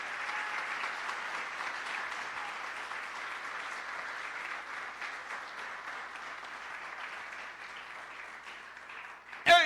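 A church congregation applauds during a Portuguese-language sermon, a dense, steady wash of many hands clapping that runs the full length at even loudness before a voice cuts in right at the end.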